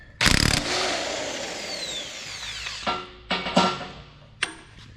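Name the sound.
impact wrench loosening bolts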